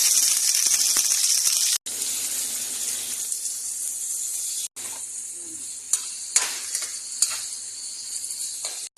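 Garlic, onion, tomato, chicken, shrimp, watermelon rind and chili sauté together in a pan, a loud continuous sizzle broken by brief pauses and clattering stirs, with no talk.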